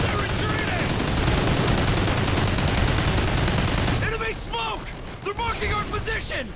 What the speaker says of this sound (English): I'm firing, man.